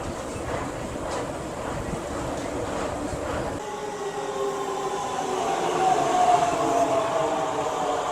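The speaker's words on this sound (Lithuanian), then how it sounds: "Dabar einu į metro ir man reikia nuvažiuoti į traukinių stotį" A metro train runs underground with a steady, loud rumble of wheels on rails that swells toward the end, joined by a faint high squeal.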